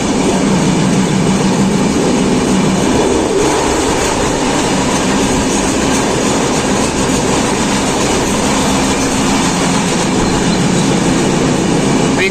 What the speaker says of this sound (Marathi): तर मित्रांनो, ट्रेन थोडी आता स्लो झालेली आहे.